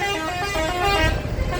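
A heavy truck's air horn blares loud and sustained near a farmers' protest convoy departing Les Invalides, a steady rich tone over rumbling engine and road noise.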